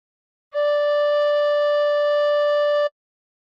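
A tin whistle sounds one long, steady, pure note, blown hard and held for about two seconds before stopping cleanly, alone and close.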